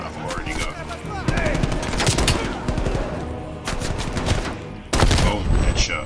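Rapid bursts of gunfire crack and rattle in Call of Duty: Black Ops Cold War, with repeated shots in clusters and a loud volley toward the end, as an in-game shotgun is used against enemies.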